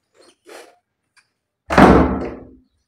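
A room door in a home swings shut with a single loud slam and thud close by, preceded by faint brief shuffling sounds.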